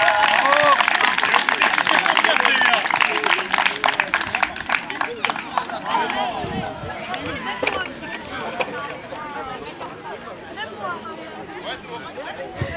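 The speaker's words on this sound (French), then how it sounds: "On peut l'applaudir très fort." A crowd at an under-13 football tournament award ceremony claps and cheers loudly, the applause fading gradually into murmuring chatter and scattered voices.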